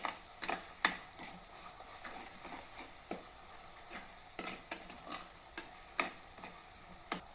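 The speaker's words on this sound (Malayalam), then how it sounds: "ഇതിലേക്ക് എരിവുള്ള 3 പച്ചമുളക് ഇട്ട് കൊടുക്കാം." Green chillies frying in a pan with onion, ginger and garlic for a fish curry, with a faint sizzle under repeated close scrapes and clinks of a stirring spoon.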